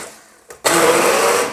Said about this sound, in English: So I'm going to grab my hand blender.